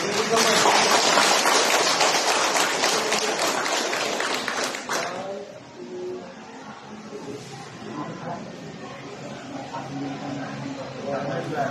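A crowd applauds loudly for about five seconds, then the clapping stops and voices carry on in the background.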